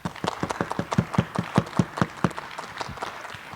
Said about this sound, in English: please clap for everybody